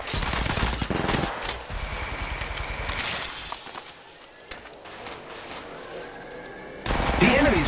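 Rapid enemy gunfire in the mobile battle royale shooter Apex Legends Mobile, bursts of close automatic shots crackling over game effects and a synthetic voice, with a loud volley at the end.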